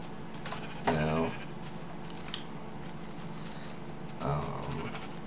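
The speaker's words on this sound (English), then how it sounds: "So it's quite a bit of sheep" Sheep bleat in the video game Minecraft, two wavering bleats about three seconds apart over a steady low background hum, moderately loud and with no talk.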